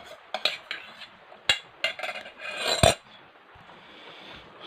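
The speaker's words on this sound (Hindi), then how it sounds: "दालें माशाल्लाह हमने जग में डाली" Dry moong and masoor lentils poured into a jug, a run of sharp rattling, clattering bursts of grains striking the container, close up and fairly loud, then trailing off to quiet.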